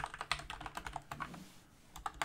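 Fast, uneven typing on a computer keyboard during a gaming session, with close, quiet key clicks in bursts, a short pause and then more keystrokes.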